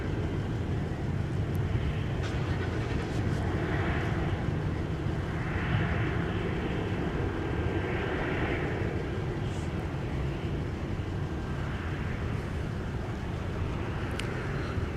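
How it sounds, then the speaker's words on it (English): A Delta Airlines Boeing 737-900 taxis to the gate at MSP airport on a winter afternoon, its jet engines giving a steady, broad rumble with a soft whine that holds at even loudness throughout. "Operated today with the 737-900, very popular aircraft for Delta Airlines. Delta 799, afternoon taxi, off for the gate."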